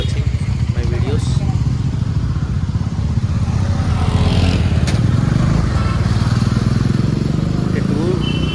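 Many motorcycles gathered in a long queue at India Bike Week's Chai & Pakoda ride in Hyderabad produce a steady, close engine rumble throughout, with voices murmuring underneath.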